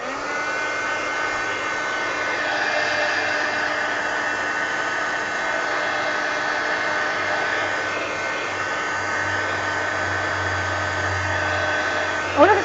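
Handheld heat tool blowing hot air to dry glue on a junk journal page, a steady whirring fan hum with a constant drone throughout, ending in a short clunk, with no voices.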